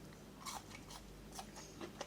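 Crunchy double-fried fries being bitten, a few crisp broadband crunches spaced across two seconds, close and fairly quiet over a low steady room hum.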